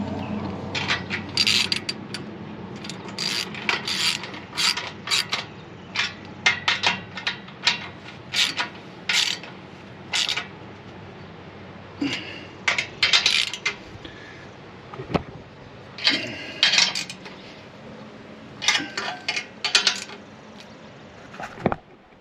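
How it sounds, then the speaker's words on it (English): Deep well socket on a ratchet tightening muffler bolts on an Allis Chalmers 7580 tractor: irregular bursts of metallic clicking and clanking with pauses, fairly close and alone. "I was rotating and got that one tight"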